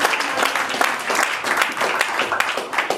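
A church congregation applauds at a Christian gathering with sustained, dense clapping, loud and continuous throughout, and voices mixed into the crowd noise.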